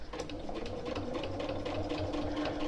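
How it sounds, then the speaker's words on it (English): Sewing machine running steadily as it stitches a fairly straight seam on a reversible tote bag, a continuous close rapid mechanical whirring with even needle rhythm and no talk. "All I need to do is focus on sewing a fairly straight line."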